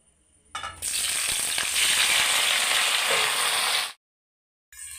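Pieces of boiled green jackfruit hitting hot mustard oil in a kadai, bursting into a loud, steady close-up sizzle that holds for about three seconds before cutting off.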